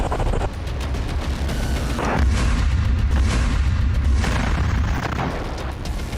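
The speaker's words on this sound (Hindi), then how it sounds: "इसी बम से जवालिया कैंप के पूर्व में एक मरकवा टैंक पर हमला करके उसके चीथड़े उड़ा दिए" A GBU-38 bomb strikes a Merkava tank east of Jabalia camp, a loud, heavy blast that swells into a sustained deep rumble lasting several seconds before slowly easing.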